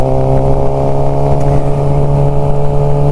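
A sport motorcycle engine, either a GSX-R 600 K7 or a Ducati 899 Panigale, holds a loud, steady, harmonic drone close by for the whole stretch, with no break or pause.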